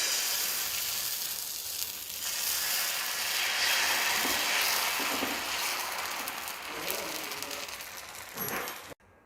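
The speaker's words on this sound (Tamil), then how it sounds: "தோசை விட்டுக்கலாம்." Kambu (pearl millet) dosa batter cooks on a hot griddle with a steady, close sizzle and hiss that fades slightly and then cuts off abruptly at the end.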